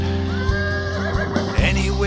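A horse whinnies in the middle of a sung comic number about Alexander the Great's steed Bucephalus. The rising and falling neigh sits over steady backing music, and a voice is heard through part of it.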